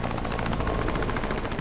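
A helicopter on the coast of Côtes-d'Armor taking off, its rotor a steady loud thudding chop over a dense engine roar, close and continuous.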